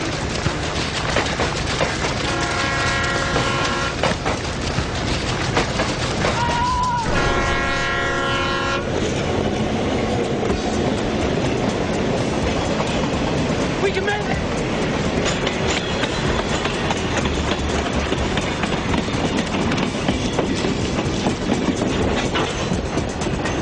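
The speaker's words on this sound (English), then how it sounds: "It's impossible to judge the speed of an oncoming train." A train passes on railway tracks in the Montana wilderness, its horn sounding in long repeated blasts over a loud, steady rumble and clatter of wagons that continues throughout.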